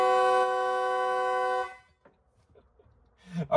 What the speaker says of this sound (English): the horn should honk when I connect these two